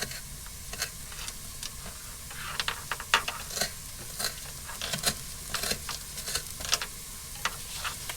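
A spice mixture with coriander is stirred in a pan. It sizzles softly under scattered sharp ticks and scrapes from the stirring, close and fairly quiet, with no talking.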